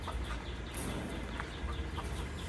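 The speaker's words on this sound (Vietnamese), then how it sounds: "Đây là con gà chê bắc của mình." Chê Bắc chickens cluck softly while eating cooked bran feed, scattered short clucks close by over a steady low background hum.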